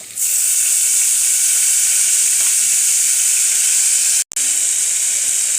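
Eggplant slices frying in hot oil for moussaka, a loud, steady hiss and sizzle close by with no talking.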